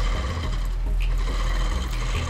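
A longarm quilting machine stitching free-motion quilting runs in a steady, loud mechanical hum with a fast continuous needle rhythm, no voices over it.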